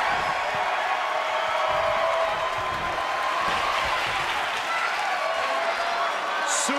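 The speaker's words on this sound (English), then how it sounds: "With every move you make, you hear this capacity crowd following you on that journey." A capacity arena crowd in the WWE 2K23 wrestling video game, during a No Holds Barred match, gives a continuous roar of cheering and applause that stays steady and fairly loud throughout.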